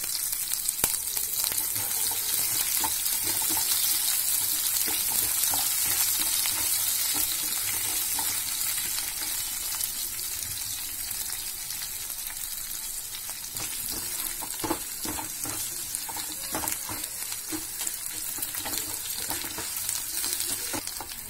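Dried red chillies and a green chilli fry in a pan on medium flame, a continuous loud sizzle with frequent spatula scrapes and stirring throughout.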